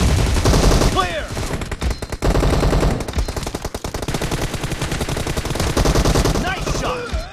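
Rapid automatic gunfire in PUBG Mobile gameplay, dense bursts of loud shots rattling almost continuously, with brief pauses, mixed with in-game voice callouts.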